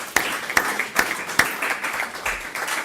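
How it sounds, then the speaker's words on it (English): A few sharp hand claps at an even pace, then softer scattered clapping, like applause just starting from a small audience. "if we could just give them all a round of applause"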